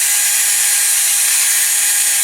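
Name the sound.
sanding by hand with P600 sandpaper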